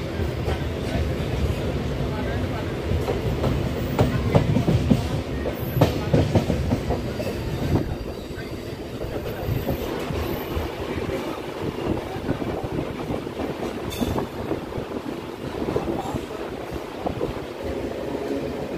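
A passenger MEMU train rolls on after pulling out of Gangineni station on the Vijayawada–Bhadrachalam Road line, its steady rumble and rhythmic clickety-clack carrying through the whole stretch with wind buffeting the microphone.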